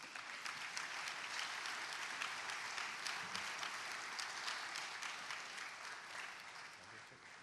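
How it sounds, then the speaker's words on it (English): An auditorium audience applauds a book presentation by Dr. Ma and Ambassador Pillay at a dialogue event with Lee Kuan Yew, steady dense clapping filling the hall at an even level, tapering slightly at the end. "May we give them a big round of applause"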